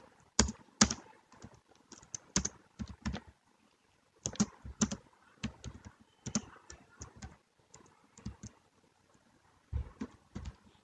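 Code is typed on a computer keyboard in Android Studio in short, irregular bursts of crisp, close keystrokes. Brief pauses separate the bursts and a few louder key presses stand out, with no talking.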